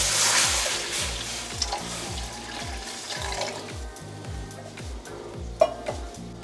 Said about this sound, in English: So going to add some water.